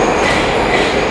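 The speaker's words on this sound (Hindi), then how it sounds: "ये लो भाई आ गई अपनी मेट्रो।" An old metro train arriving at a station in Saint Petersburg, a loud, steady rumble of rolling wagons and wheels filling the space up close, with no talking over it.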